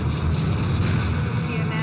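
A news broadcast carries a loud, dense explosion-like roar: continuous low rumble and broadband noise that lasts the whole short moment with no pause.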